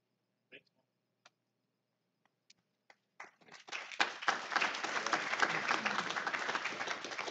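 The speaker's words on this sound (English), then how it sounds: "Let's give a round of applause for everybody, all the speakers today in both sessions." A few scattered claps build into sustained applause from a seminar audience honoring the day's speakers, moderately loud and steady after the first few seconds.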